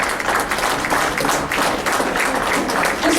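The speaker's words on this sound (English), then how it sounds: "So if everybody give them another round of applause," Audience at a community meeting on banishment and the budget applauds, a steady, fairly dense patter of clapping throughout with no clear voices over it.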